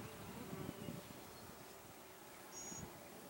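Honey bees buzz steadily during a June hive inspection, a low droning hum that swells near the start and again toward the end, with no talk over it.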